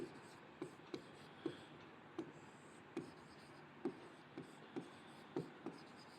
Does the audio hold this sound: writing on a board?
yes